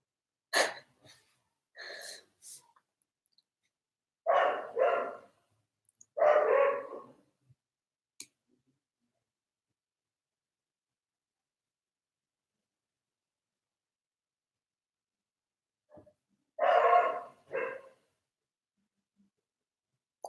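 Dogs barking in short, separate bursts: a few quick barks at the start, two heavier clusters in the middle, and another pair near the end, with long quiet gaps between them.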